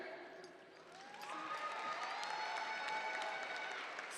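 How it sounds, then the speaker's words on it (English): An audience at the Cass Tech Class of 2021 ceremony applauds alumnus Mallory McCree, an actor and producer. The clapping is fairly faint and distant at first, then swells into steady, sustained applause mixed with some cheering. "Give a round of applause to Mr. Mallory McCree."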